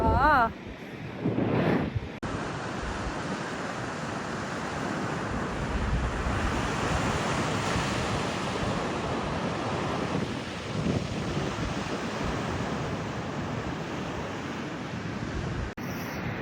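Ocean surf at Long Reef Beach in Sydney on a cold day, a steady, loud wash of breaking waves mixed with heavy wind buffeting the microphone, with a brief voice and a few knocks at the start.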